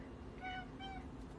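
Two short, soft indoor cat meows come in quick succession, fairly faint against a steady background hiss.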